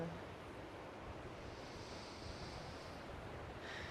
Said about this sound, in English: even though it's super windy